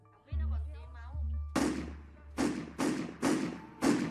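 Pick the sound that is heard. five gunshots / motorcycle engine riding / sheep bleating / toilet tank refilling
five gunshots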